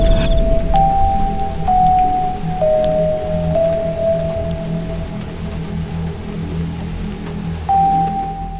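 Light rain falls at night as a steady, close patter and hiss of drops on surfaces, with faint tonal hums drifting through the background and no voices.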